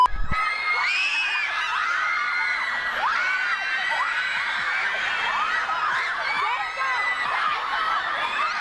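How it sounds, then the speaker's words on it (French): A large crowd of fans screams and shrieks continuously at BTS's arrival in Mexico, high excited voices overlapping in a loud, unbroken din with whoops and cheers rising and falling. "c'était n'importe quoi à cause de tous ces fans qui n'arrêtaient pas de hurler et de se bousculer"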